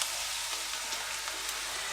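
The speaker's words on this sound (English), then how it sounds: "I'm gonna put 3 fritters, well, 3 portions in this pot. And I'm gonna fry them on both sides" Banana fritters fry in oil in a pot, giving a steady, close hiss of sizzling with small crackles and pops throughout.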